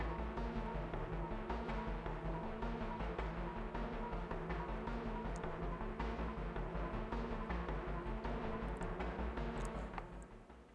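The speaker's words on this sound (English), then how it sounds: "Now, I actually like this chase music because it actually suits the Demogorgon." Synth-driven electronic chase music for the Demogorgon killer in the horror game Dead by Daylight, a dense, loud, steady music bed running continuously before dropping away at the very end.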